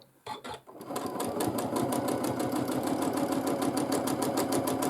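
A sewing machine stitches steadily during free motion quilting of swirl patterns, a fast even needle rhythm that starts after a brief stop-start and then runs continuously and fairly loud, with no talking.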